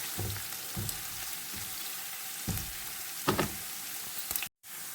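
Onion, garlic and ginger frying in a pan for a biryani masala, giving a steady soft sizzle with a few faint clinks and stirring scrapes, alone without talk, cut off by a brief gap near the end.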